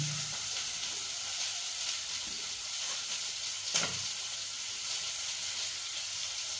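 Onions fry steadily in a pan with a continuous sizzle, with sharper crackles and pops where water hits the hot oil, including one distinct burst near the middle. No one speaks.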